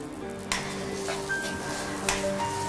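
Ginger, coconut and curry leaves dry-roasting in a pan without oil, a soft steady sizzle and rustle with a couple of sharp taps of a spoon against the pan.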